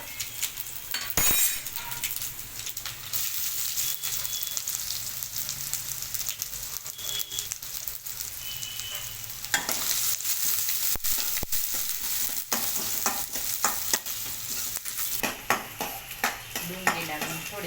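Chopped onion added to hot oil with crackling cumin seeds in a home kitchen, a sustained sizzle broken by clinks and scrapes of a metal spoon stirring in the pan, with sharp popping bursts throughout.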